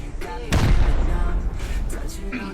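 Heavy booms and bursts of gunfire from a video game, loud and continuous, with a sharp blast near the start followed by a rumbling barrage.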